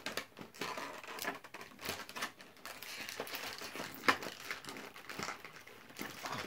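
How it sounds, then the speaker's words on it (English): Pokemon trading cards are pulled from a crinkly foil pack wrapper, giving a steady stream of soft, close crinkling and rustling with a few sharper crackles. "Really quick, I gotta take out the cards."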